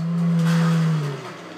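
A car speeds past close by, its steady engine drone peaking loudly and then dropping away in pitch and volume as it recedes.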